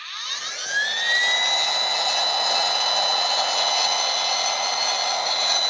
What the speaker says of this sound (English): And that's the sound of a fan that's going.